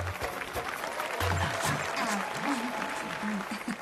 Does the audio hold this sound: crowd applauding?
yes